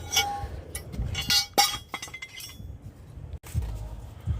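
Metal engine bracket on a 2011 Nissan Rogue 2.4 being moved by hand during valve cover gasket work, giving several close, sharp metallic clinks and knocks in irregular bursts with quiet gaps between.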